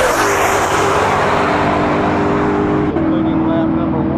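A 2020 Ford GT500 race car on a track comes by loudly, its engine roaring with a falling pitch as it passes close, while a commentator talks over it.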